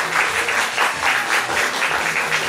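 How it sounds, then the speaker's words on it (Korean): A large audience claps in a big round of applause welcoming a guest at an MBC drama press launch, a dense steady patter of many hands that swells and ebbs over the whole stretch without speech. "큰 박수를 환영해 주십시오."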